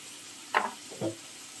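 Spice paste of chili powder, coriander powder and ginger-garlic paste hisses in a pan with two short stirring scrapes, faint and close, no talk.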